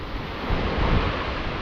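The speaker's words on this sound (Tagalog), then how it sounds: "maalon at saka mahangin." Rough surf on Taal Lake roars continuously under strong wind buffeting the microphone, a loud, dense wash of noise with no distinct breaks.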